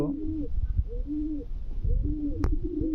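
Soft, throaty pigeon coos repeat in overlapping rounds, close by, with a low murmuring undertone throughout.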